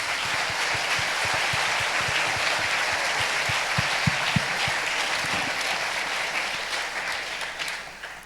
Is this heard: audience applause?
yes